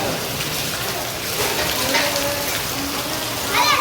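Steady rain pours down in a Gujarati village, a dense, continuous hiss of drops on the ground and surfaces close by, with a few brief louder patches and no talking.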